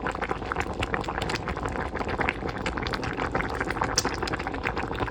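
A pot of curry with foraged mushrooms and vegetables bubbles steadily, a dense continuous simmer with crackling pops throughout, close up.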